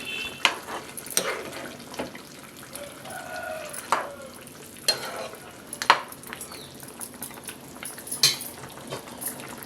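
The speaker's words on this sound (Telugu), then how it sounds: "ఆ పేస్ట్ వేసాం బాగా కలుపుకుందాం" A spoon stirs a cashew, coconut and poppy seed paste into chicken gravy curry in a pan, with repeated scraping strokes and occasional utensil clinks over a soft sizzle.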